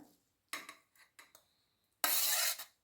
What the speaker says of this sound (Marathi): पुन्हा एकदा ढवळून घेऊया